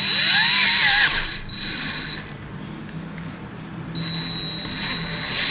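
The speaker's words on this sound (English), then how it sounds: "That's a nice drill bit." A power drill whines at high pitch as the bit bites into a metal cylinder head of a Mercedes T1N diesel engine, then winds down and spins up again with a thin squeal.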